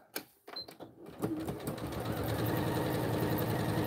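A sewing machine quilts a zippered pouch with black thread in the bobbin, its close, steady mechanical whir building after a few faint clicks and handling noises, then running continuously and loudly to the end.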